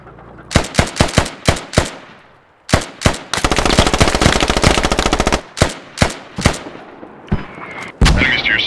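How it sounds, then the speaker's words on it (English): Enemy mortar and gunfire in the Squad military shooter, a string of sharp loud blasts spaced out, then a dense rapid automatic burst, followed by more scattered heavy impacts. "Those enemy mortars? Yep, those are enemy mortars."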